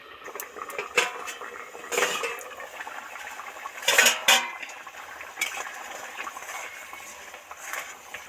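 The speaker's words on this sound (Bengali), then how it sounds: "তরকারি তো ভিতরে টুকবুক টুকবুক করে ফুটছে এবার খুলে দেখব কেমন হচ্ছে" Metal pot lid lifted off a pot of fish curry simmering on the stove, with several clanks and scrapes of metal against metal over a faint bubbling background, close and moderately quiet.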